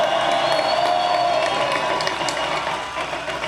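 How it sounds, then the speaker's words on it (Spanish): A large crowd in a public square applauds and cheers at a political rally, loud and continuous, with whistles and shouts riding over the rolling clapping throughout. "para el cual pido un aplauso de esta plaza"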